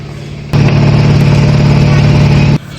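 Loud, close drone of a trawler boat engine chugging steadily on the Meghna river, cutting in abruptly and holding a constant low throb for about two seconds before dropping away.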